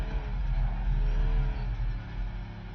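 A race car engine drones steadily in the Project Motor Racing video game, a constant muffled rumble with slight rises and falls in pitch and no clear voices.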